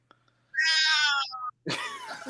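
A house cat lets out a loud, drawn-out meow close by, followed by a shorter chirp, then a burst of noisy rustling or handling sound; steady low hum underneath.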